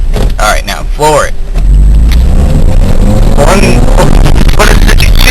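A Toyota Tercel, a stick-shift car, accelerating hard at full throttle on a wet road, with a loud steady engine roar that builds and continues to the end after some brief talk at the start.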